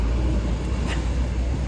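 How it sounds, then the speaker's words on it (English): A big truck passes on a seafront road in La Paz, Mexico, a loud, steady low rumble of engine and tires filling the whole moment close by. "There's a big truck passing, so it's probably hard to hear"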